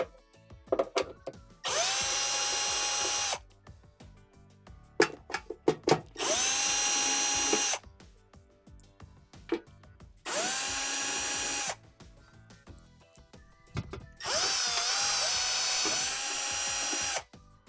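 A power drill backs out the cover screws on a Whirlpool Swash washer, running in four separate whirring bursts of about two seconds each, close and loud, with clicks and small handling clatter between bursts.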